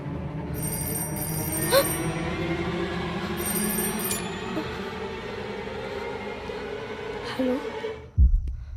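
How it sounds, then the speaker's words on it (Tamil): A telephone bell rings in an old house in a Tamil horror film, a bright repeating ring over a steady low hum with faint voices and a thump near the end. "சுவாசினி, ஹரி, ஃபோன் ரிங் ஆச்சு."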